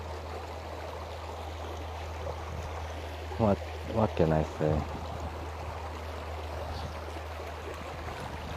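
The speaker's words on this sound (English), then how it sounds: "I just let you enjoy the view and the sound of water." Stream water flowing steadily at a calm spot near Brasov, a constant rushing wash under a low hum, with someone briefly speaking over it midway.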